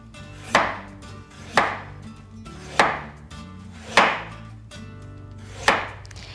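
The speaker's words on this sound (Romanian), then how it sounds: "Și tăiem morcovul pe diagonală" A knife cuts a peeled carrot diagonally on a cutting board, five sharp chopping strokes landing roughly once a second, close and clear with no talking.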